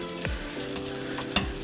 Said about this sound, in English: Hear that sizzle? That's a good sizzle.